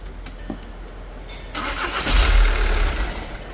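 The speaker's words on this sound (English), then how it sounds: "The problem is it starts and dies." A 2013 VW Jetta TDI wagon with a starts-and-dies fault cranks briefly, catches and runs with a loud, close diesel rumble that swells, then begins to sag.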